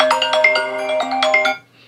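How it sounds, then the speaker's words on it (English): An iPhone ringtone plays loud and close, a bright melodic chiming phrase of several quick notes that stops abruptly. "make sure your ringtone volume is turning all the way up."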